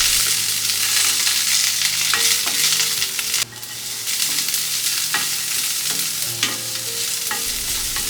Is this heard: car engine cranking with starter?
no